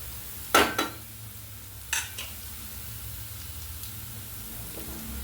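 Chilli, turmeric and garam masala powders being sautéed in a pan for egg curry: a soft steady sizzle with two sharp scraping stirs of a metal utensil against the pan.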